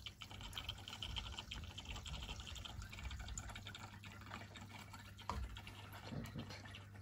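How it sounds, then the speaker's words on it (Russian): Water poured into a home aquarium, a steady faint splashing and trickling fill with a few louder drips and plops, heard close and alone. "Налью водички."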